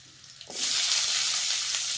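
Garlic paste and spices hitting hot oil, a sudden loud burst of hissing sizzle after a quiet start, staying steady and close, with no talking.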